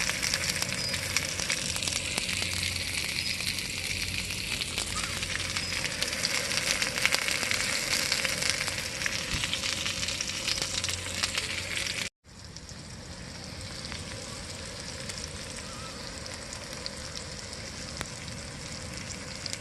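Steady, dense sizzling and crackling of meat cooking on a grill at a campsite, continuous and close for the whole stretch, with one brief break partway through.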